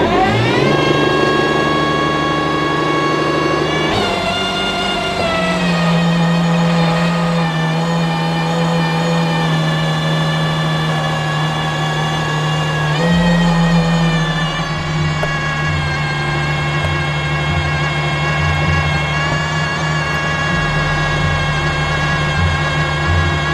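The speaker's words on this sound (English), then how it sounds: "So now I'm gonna go and I'm gonna start the car." Aston Martin Valkyrie hypercar engine starting and settling into a steady, loud idle, with rich layered harmonics and a noticeable jump in pitch partway through, alone with no talking.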